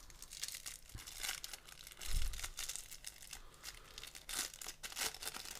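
Plastic packaging from a Xiaomi Yi action camera unboxing crinkles and tears close up in repeated rustling bursts, with a soft thump midway; no talking.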